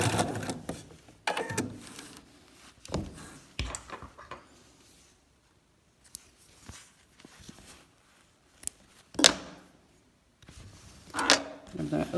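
A sewing machine stitches quilt binding in short intermittent bursts of whirring and clatter, separated by pauses and handling noises, fairly quiet and close.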